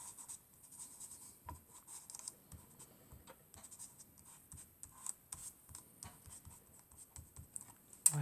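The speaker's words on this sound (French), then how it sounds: "on appuie pour bien faire adhérer l'encre" Ink being pressed through a lavender stencil, a soft repeated dabbing and scratching with irregular light taps, close and quiet, ending in a sharper knock, with no talking.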